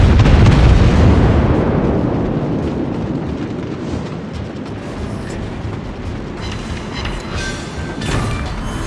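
A battleship explodes and is destroyed in a naval battle video game, opening with a loud, heavy blast that decays into a long rumbling roar, with smaller bursts and crackles near the end.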